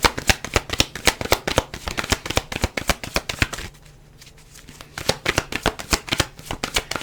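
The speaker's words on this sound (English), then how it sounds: "I shouldn't be shuffling my cards near the microphone" Tarot cards shuffled right beside the microphone, a rapid run of crisp riffling flicks, a short pause, then more brisk shuffling, loud and close.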